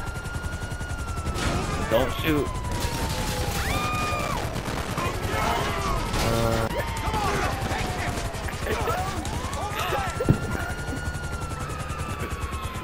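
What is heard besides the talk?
helicopter in GTA 5 video game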